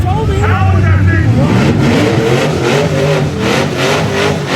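A Chevrolet C10 truck engine running and revving at the Hoonigan Burnyard at SEMA 2025, a loud rumbling engine with rising and falling revs, while people talk nearby.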